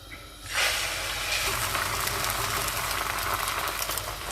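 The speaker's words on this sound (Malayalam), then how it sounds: "നമ്മൾ ബീറ്റ് ചെയ്ത് വെച്ചേക്കുന്ന ഈ മുട്ട ഇതിലേക്ക് ഒഴിച്ചു കൊടുക്കുക" Beaten egg hits a hot buttered pan and erupts into a loud, bright sizzle that starts abruptly and holds steady as a close, hissing crackle.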